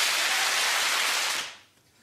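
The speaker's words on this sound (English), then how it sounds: "I think it was a round of applause." A short burst of dense, bright applause serves as a quiz show buzzer sound effect, loud and hissy for over a second before cutting off sharply.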